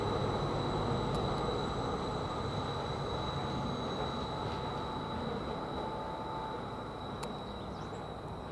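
Train pulling out of Bury St Edmunds railway station towards Ipswich, a steady broadband rumble of wheels and engine with a faint high whine, heard from the platform at a moderate distance.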